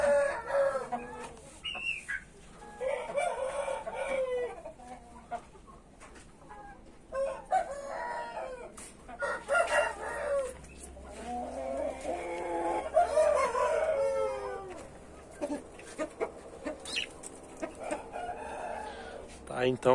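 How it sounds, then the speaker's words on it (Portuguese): Chickens cluck and a rooster crows repeatedly outdoors among a small flock of hens and young birds, fairly close, with someone speaking now and then between the calls. "Aí tá as galinhas aí."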